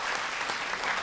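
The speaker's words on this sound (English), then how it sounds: "Let's give God one applause for that." Congregation at a church service breaking into sustained applause, a dense steady patter of many hands filling the room with no pauses.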